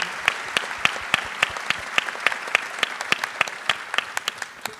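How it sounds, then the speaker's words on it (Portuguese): Audience at a football campaign launch claps for Marcos Mota, a steady burst of many hands with sharp individual claps standing out, fairly close and carrying on without talk. "para quem eu peço uma salva de palmas"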